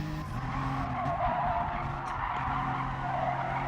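A race car in a racing video game slides out with a tire skid, the squeal and scrub lasting a few seconds over steady engine noise at moderate loudness.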